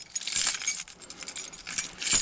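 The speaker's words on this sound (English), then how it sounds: "Gotta find my key with all my keys." A bunch of car keys for a 1969 Impala jingles and clinks in repeated bright metallic bursts, close and fairly loud, with no voices.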